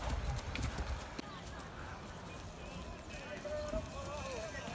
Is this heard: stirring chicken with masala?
no